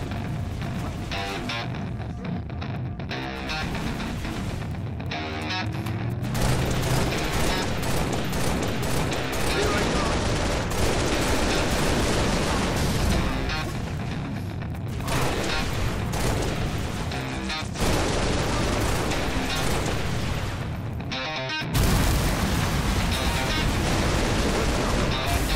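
Gunfire from the Halo Reach Prometheus mod on Legendary rolls on almost without pause, with dense volleys and heavy blasts that stay loud throughout.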